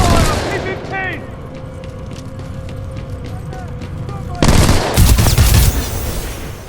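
Suppressing gunfire in the video game Titanfall 2, dense rapid bursts rattling under continuous game dialogue and effects, then a louder heavy volley near the end.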